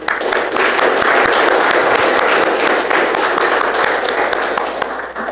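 A church congregation clapping hands together in a steady, dense wash of applause, loud and sustained throughout with no voices standing out.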